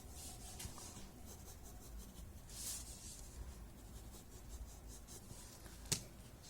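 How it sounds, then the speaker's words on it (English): A graphite pencil shades areas of a tangle drawing on paper, making soft, faint scratchy strokes in short repeated bursts, close up and quiet, with one sharper tap near the end. "So I'm just adding graphite in those areas."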